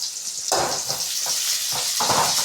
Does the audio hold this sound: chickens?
no